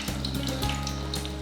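Vegan kibbeh balls, five or six at a time, sizzle in hot frying oil with a steady, close, hissing crackle and a low hum beneath.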